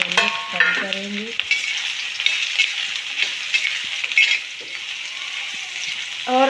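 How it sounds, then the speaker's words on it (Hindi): Soybean chunks fry in hot mustard oil with a bright, steady sizzle and occasional stirring clatter close to the pan. Brief voice-like tones are heard at the start and end. "तो यहाँ पे सरसों का तेल गरम हो गया है, और हम सोयाबीन को पहले फ्राई करेंगे।"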